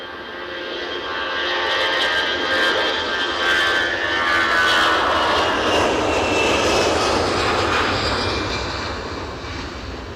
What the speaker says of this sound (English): EasyJet to London Stansted, with the Iberia Express next to go after that.